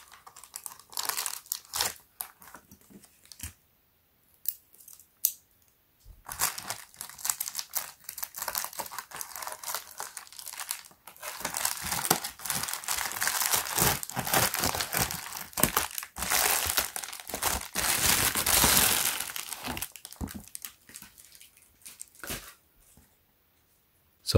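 Dash cam packaging being cut open and unwrapped, with close crinkling, rustling and tearing of plastic and cardboard in irregular bursts, quieter handling at the start and a long dense stretch of crackling in the middle.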